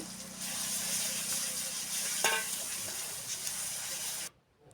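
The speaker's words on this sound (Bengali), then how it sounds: "মাংস হচ্ছে পেঁয়াজ ভাজা হচ্ছে" Onions with ginger and garlic fry in a pan, a steady close sizzle and hiss with a brief clatter midway, stopping abruptly before the end.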